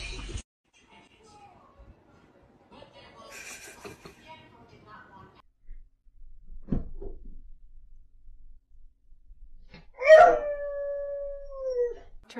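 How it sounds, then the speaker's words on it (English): A dog gives a short rising then falling howl near the end after a mostly quiet stretch with faint household knocks and movement, the howl loud and close with a drawn-out tail. "Stop barking."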